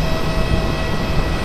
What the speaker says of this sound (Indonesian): Nah, itu tuh ada yang mau take off. Lihat pesawatnya langsung